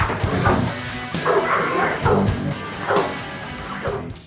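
An American bandog, a large guard-dog mastiff cross, barks repeatedly in deep, loud, close bursts spaced about a second apart, with no other sound competing.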